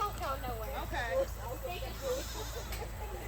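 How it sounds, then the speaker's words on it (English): Goats on a farm tour bleat several times close by, overlapping with people talking in the background throughout. "Goats eat anything."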